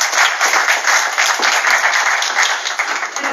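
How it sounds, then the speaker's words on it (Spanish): A university lecture audience breaks into loud, dense applause that holds steady throughout, with no clear voices over it. "Aplausos."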